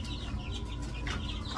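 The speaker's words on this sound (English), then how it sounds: "Happy chickens." Chickens clucking in a box with the lid on, during spring on a homestead, a steady close chorus of soft clucks and a few sharper calls.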